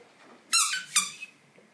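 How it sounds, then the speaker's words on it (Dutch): A squeaky tennis ball squeezed twice, giving two sharp, bright, high-pitched squeals close up with a short pause between them and a fainter third chirp after, against a quiet room. "Een piepende tennisbal, ja."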